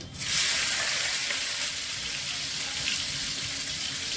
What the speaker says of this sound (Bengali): রসুন কুচি ফোড়ন করছি, পেঁয়াজ দিচ্ছি